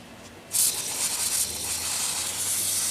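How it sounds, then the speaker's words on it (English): Brake cleaner sprays from an aerosol can onto dirty motorcycle front brake parts, a sudden loud, close hiss that starts abruptly and holds steady for a few seconds. "That's just brake cleaner, spraying it on there"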